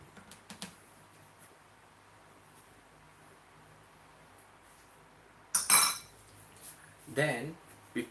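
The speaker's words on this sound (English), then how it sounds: "I need to stir this a little bit" A utensil stirs egg custard mixture in a container, making a couple of short clinking scrapes after a long quiet stretch, with faint background noise throughout.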